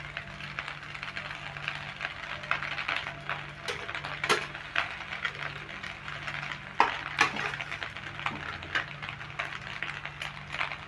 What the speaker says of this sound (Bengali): এবার চিকেনটা দিয়েও খুব ভালো করে মিশিয়ে নেব